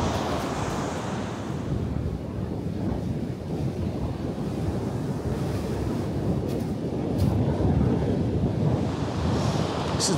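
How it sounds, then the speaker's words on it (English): Surf rolls onto a beach at Porth Nobla on Anglesey at sunrise, a continuous loud wash of breaking waves with blustery wind buffeting the microphone and no voices. "The way you get shapes in the surf as it rolls back off the beach"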